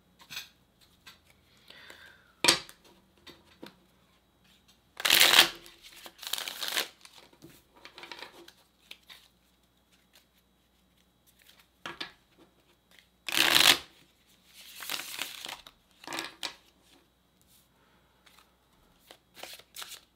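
A tarot card deck is shuffled in several bursts, crisp riffling and flapping separated by quieter handling and small taps, close and clear with no talking.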